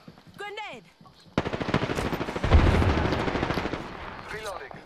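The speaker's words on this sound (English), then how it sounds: "Taking fire." Rapid automatic gunfire from Apex Legends played on the Switch, a dense sustained burst of loud shots after a short lull, with brief voice-like game chatter at the start and end.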